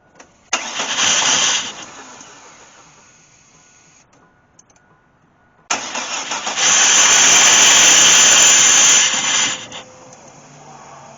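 Flooded gasoline engine of a vehicle pulled from flood water, cranking in two loud bursts with a rapid starter whir and rough attempts to catch, a short quiet gap between them, close and with no talking.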